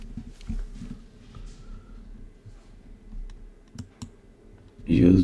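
Several sharp computer mouse clicks while setting up an Azure Kubernetes cluster, close and fairly quiet, scattered among faint background speech before a louder burst at the end.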